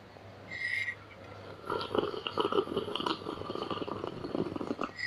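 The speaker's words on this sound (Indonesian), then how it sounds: "seperti biasa saya akan seruput dulu kopinya" Coffee is slurped close to the mic, starting with a short whistle-like sip and then a longer run of noisy sucking and swallowing. No one talks.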